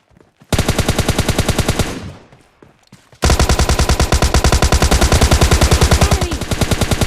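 Sustained automatic gunfire in the mobile shooter PUBG Mobile Lite: a loud rapid burst, a brief lull, then a longer unbroken stream of shots that runs to the end, with no talk.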